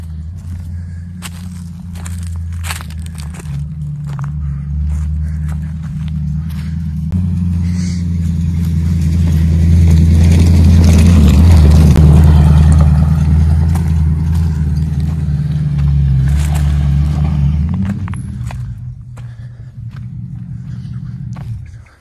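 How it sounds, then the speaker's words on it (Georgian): A car approaches along a village road, its engine rumble swelling steadily to a close, loud pass and then easing off as it rolls by, with faint footsteps and clatter around it. "მანქანა მოდის აგერ"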